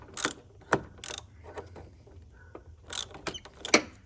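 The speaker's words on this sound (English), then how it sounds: "now I'll go ahead and take the negative battery post off. The bolt is spinning." A ratchet wrench loosening the negative battery terminal bolt on a car, a few separate bursts of quick clicking spaced apart, close and fairly quiet with faint shuffling between.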